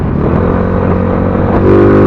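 A Yamaha Mio 125 scooter running in stock form rides over potholes, its engine giving a loud, steady droning whir close to the microphone with slight bumps, and no speech.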